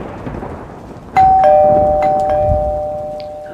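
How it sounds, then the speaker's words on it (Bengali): An electric calling bell at a house door rings late at night: a sudden, loud, sustained electronic chime tone, held and slowly fading, over a low rumbling background. "ভাবতে ভাবতেই আরো বার কয়েক কলিং বেল বেজে উঠল।"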